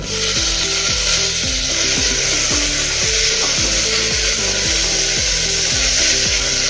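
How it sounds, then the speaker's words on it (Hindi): Green chillies and tomatoes sizzle with fried onions in a pan for dal: a steady hissing fry, loud and continuous, with a rhythmic tonal music bed underneath throughout. "अभी इसमें हम हरी मिर्च डालेंगे और साथ में हम टमाटर भी डालेंगे।"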